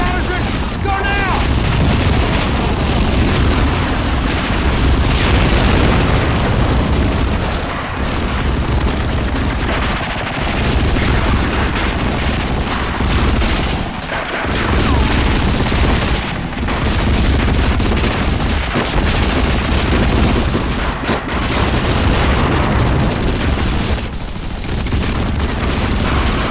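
Explosions and machine-gun fire in the Medal of Honor Frontline video game on PS2, a dense, continuous loud barrage of booms and rapid shots throughout, with occasional brief dips in the din.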